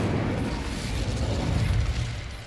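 Incendio fire spell cast in Hogwarts Legacy, a steady whooshing, rumbling burst of flame that stays loud and dense for a couple of seconds without pause.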